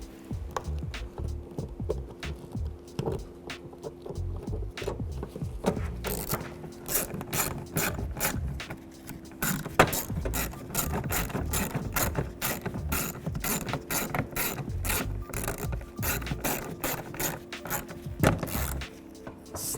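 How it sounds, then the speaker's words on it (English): A hand ratchet fitted with a 10mm socket and extension tightens bolts, its pawl clicking in rapid, steady runs with brief pauses, loud and close throughout, no talking. "use our 10mm socket, extension and ratchet"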